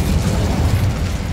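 The Incendio fire spell in the video game Hogwarts Legacy erupts as a loud, dense rumbling whoosh of flame that roars steadily throughout a short burst, with no voices.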